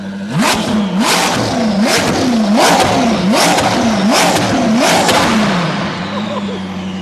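A Koenigsegg CC850 with a twin-turbo V8 revs up close and loud, about eight quick, sharp throttle stabs in a regular rhythm, each rising and dropping away, before settling toward idle.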